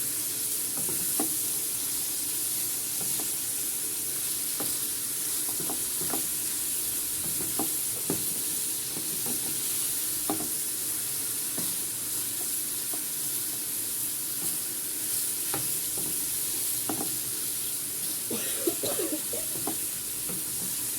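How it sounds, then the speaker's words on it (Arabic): Pasta being stirred in a hot pot on the stove, with a steady bubbling sizzle and intermittent scraping knocks of the spoon against the pot, close by, without speech. "نوطي عليها بقى ونقلب فيها بقى"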